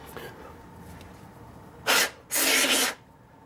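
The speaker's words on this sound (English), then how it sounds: "I'm just giving it a wipe" Cloth wiping around the front main oil seal area of a 1985 Ferrari Mondial QV engine, two short close rubbing strokes, the second longer, against a quiet background.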